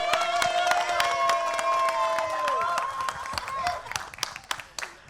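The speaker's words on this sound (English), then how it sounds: "Let's have a huge round of applause for them as well." A crowd at a trailer launch event claps and cheers over a sustained musical tone that fades out, leaving scattered claps at the end.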